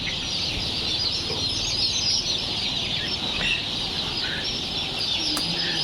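At a poultry farm, a brood of Tiger chicken chicks keeps up a dense, continuous chorus of high peeping and clucking at midday, with no pauses and no talk over it.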